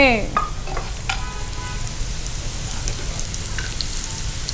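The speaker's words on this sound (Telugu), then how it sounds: "ఆయిల్ హీట్ అయిపోయింది కండి, నెయ్యి వేసేసి ఫ్రై చేసేసుకో" Papdi frying in hot oil with ghee, a dense steady sizzle like light rain, with a few utensil clinks and ringing tones at the start, no talk.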